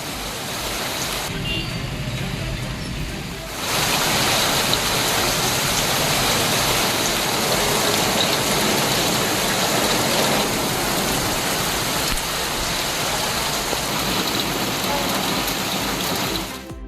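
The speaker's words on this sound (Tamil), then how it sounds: "கடலூர் மாவட்டம் விருத்தாசலம் சுற்றுவட்டார பகுதியில் கனமழை பெய்தது." Heavy rain pours over streets in the Virudhachalam area of Cuddalore district, a loud, steady broadband hiss that swells stronger after the first few seconds and continues without a break.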